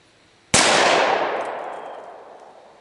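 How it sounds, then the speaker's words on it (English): A single sharp, loud shot from an M1911A1 pistol firing .45 ACP+P rounds at a soda can outdoors. The report rings out and slowly decays over the next two seconds. "I've got a soda can set up at the base of that tree. I'm just gonna like stand here and shoot it."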